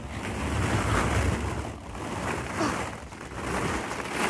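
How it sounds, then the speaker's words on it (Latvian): Water waves wash and surge steadily nearby, with wind buffeting the microphone throughout and no voices. "Šeit ir ūdens."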